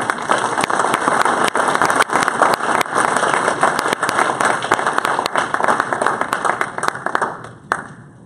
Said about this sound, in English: Please, a round of applause for our senior executive, Pat Weiser.